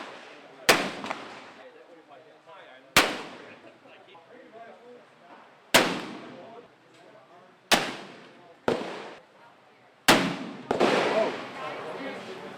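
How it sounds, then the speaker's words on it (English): Black powder guns fire at an outdoor range event, six loud booming shots spaced a few seconds apart, each ringing out with a long echoing tail, with voices talking between them. "we have a great setup for them to shoot a few shots of black powder"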